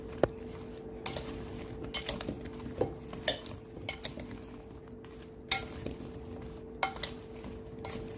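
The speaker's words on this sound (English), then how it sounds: "And then we're just going to stir." Leeks being stirred in a bowl with oil, salt and pepper, a utensil clinking and scraping against the bowl in a series of light, irregular taps close by, with no talk over it.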